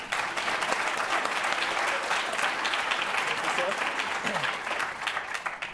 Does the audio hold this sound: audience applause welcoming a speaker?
yes